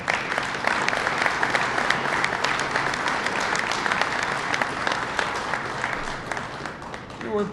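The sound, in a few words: applause from factory workers at a stamping plant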